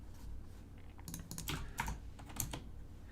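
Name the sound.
typing a command on a computer keyboard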